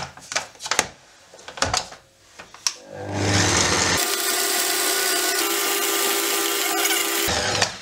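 Vegan brookie dough with chocolate chips being mixed, a few sharp taps and knocks at first, then a loud continuous motorized mixer drone that runs steadily for several seconds before cutting off.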